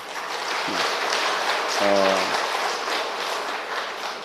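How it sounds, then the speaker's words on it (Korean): An audience at a church award ceremony gives a sustained round of applause for the participants, a thick wash of clapping with a brief voice breaking through near the middle. "박수 한번 크게 하십시다"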